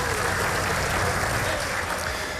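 A crowd applauds steadily at the close of a formal session, a dense wash of clapping at even loudness for a few seconds.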